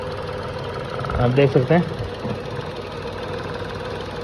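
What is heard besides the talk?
Tata Nexon engine idling with vibration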